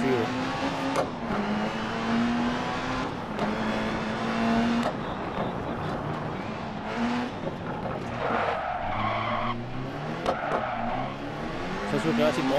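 Rally car climbing Pikes Peak in DiRT Rally, its engine revving and dropping through gear changes with tire skids and squeals, close and loud, while someone talks over it.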